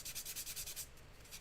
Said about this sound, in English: And I'm going to give her a light sanding